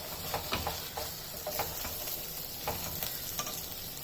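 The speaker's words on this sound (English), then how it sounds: "So let the chilies get slightly tempered a bit." Chilies sizzle and crackle steadily in hot oil while being tempered in a pan for a Tamil Nadu style veg biryani, with occasional stirring scrapes over a constant frying hiss.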